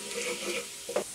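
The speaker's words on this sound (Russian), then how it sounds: "В течение 30 секунд обжарим чеснок." Chopped garlic fries in butter in a pan, a soft steady sizzle close by with a brief stirring scrape near the end.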